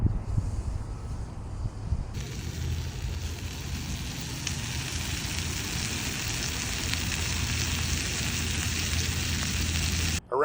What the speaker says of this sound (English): I think I'm gonna sit down and cook myself a steak